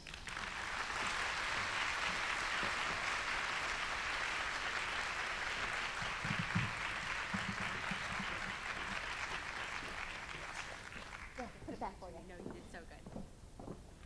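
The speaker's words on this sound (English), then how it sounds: "one more round of applause for Janine because she's so great." A Go Red luncheon audience gives Janine Turner sustained applause, a wide wash of clapping lasting over ten seconds that gradually thins, with voices talking beneath it toward the end.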